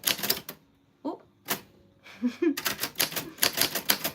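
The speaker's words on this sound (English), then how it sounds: "I'm doing Typewriter ASMR, and the typewriter is from 1949" Keys struck on a 1949 typewriter in quick bursts of sharp, close clacks with short pauses between, and a voice briefly speaks partway through.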